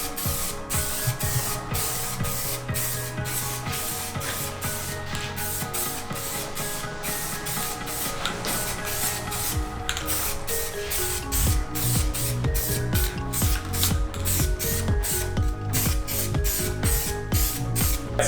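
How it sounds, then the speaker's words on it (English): A spray gun applying wheel coating hisses in rapid pulsed bursts, spraying continuously up close, with mechanical rattling and a low compressor-like hum underneath. "this is gonna make sure that the nozzle is spraying right"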